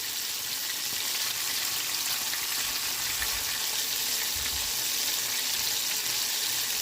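Two spotted bass fillets fry in hot oil at around 340 degrees, giving a steady, dense sizzle that holds evenly throughout with no voices over it.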